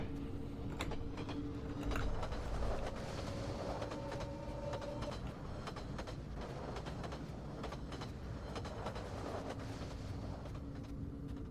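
A train rolls past in the horror game The Room Syndrome, a steady rumbling clatter with faint tonal hums, holding at a constant loudness throughout with no voices.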